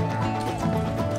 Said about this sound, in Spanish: Caballo Pancho llegó a casa de Elmer.